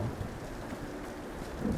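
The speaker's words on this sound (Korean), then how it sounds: "번개 치니까 좀 분위기가 남다른데?" Steady rain with a low thunder rumble in the Tomb Raider video game, a continuous dense wash of sound with no voices.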